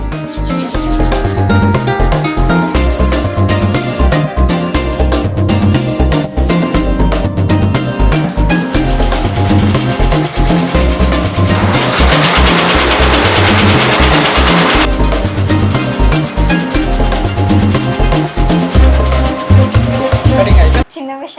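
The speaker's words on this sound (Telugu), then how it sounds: "ఈ మిషన్ మీద కూడా రన్ అవుతుంది ఒక డిజైన్" UME embroidery machine stitching a design, with a fast, steady, loud mechanical rattle of needle strokes and a brief harsher whirring stretch midway.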